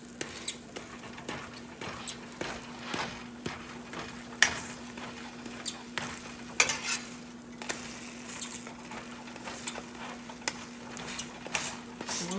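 Pancakes sizzle softly in butter on a hot pan while a spatula presses and scrapes them flat, giving an irregular patter of light taps and clicks over a steady low hum, with no talking.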